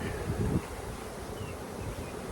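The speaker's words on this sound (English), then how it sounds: "bunch of bees up here fanning their wings" A steady, low buzzing drone of many honeybees fanning their wings to spread pheromone, close by, with a faint rustle of wind.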